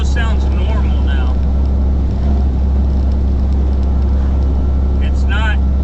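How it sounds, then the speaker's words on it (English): A repaired semi truck engine runs with a loud, steady low drone and a slight lingering whine, while someone talks over it. "There's still just a little bit of a whine, but like it almost sounds normal now."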